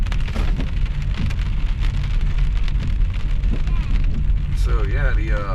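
Heavy rain pours against a window in Newport near the Yaquina Bay Lighthouse, a dense, loud, steady patter of drops, with a short whistling tone rising near the end.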